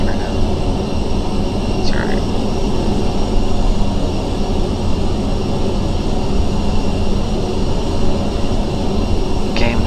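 A Headwind A330 touches down in Microsoft Flight Simulator 2020 with a loud, steady, rumbling roar that fills the whole stretch, and a voice briefly speaks over it.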